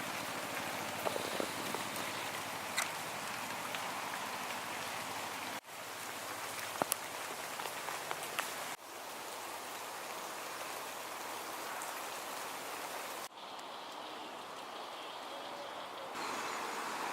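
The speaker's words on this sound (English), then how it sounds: "Rain's picking up." Steady rain patters and hisses on surfaces throughout, a dense even wash with a few brief breaks and faint scattered drips, no talking.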